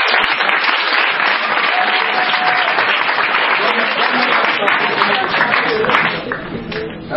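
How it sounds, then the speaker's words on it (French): A church congregation applauds and acclaims Jesus in a dense, loud burst of clapping and cheering that holds steady, then thins near the end. "Acclame Jésus"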